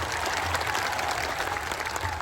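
Audience applause at a Birsa Munda birth anniversary political gathering, dense steady clapping from a large crowd lasting throughout, moderately loud with no clear speech.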